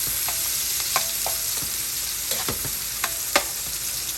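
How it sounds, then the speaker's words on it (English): Celery and garlic sauté in a pan for Guyanese-style shrimp fried rice, a constant loud sizzle with occasional clicks and scrapes of a utensil stirring against the pan, close up and without talking. "I'm gonna add some garlic here and saute everything nice"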